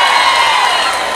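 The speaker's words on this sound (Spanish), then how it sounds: "Fuerte el aplauso, que se sienta" A crowd at a public recognition ceremony in San Luis cheers and applauds loudly and steadily, a dense, continuous wash of clapping and shouting voices.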